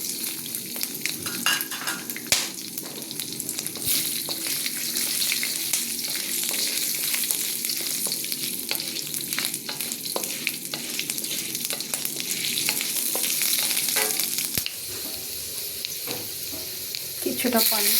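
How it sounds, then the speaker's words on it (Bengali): Cashews, black pepper, cinnamon, cardamom, cloves and bay leaf frying in oil for an Afghani chicken malai curry, a constant close sizzle with occasional utensil clicks and stirring. "এখানে কাজু বাদাম, ব্ল্যাক পেপার, দারচিনি, এলাচি, লং, তেজপাতাটা নিচে ভাজা ভাজা করে দেব।"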